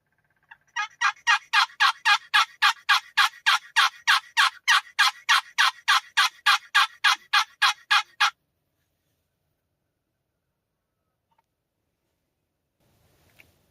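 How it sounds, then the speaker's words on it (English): A turkey call used by a hunter in a field gives a loud, close run of about twenty evenly spaced yelps over several seconds, followed by near silence. "Just heard some gobbling coming from the west, so I'm going to do a little bit of calling here"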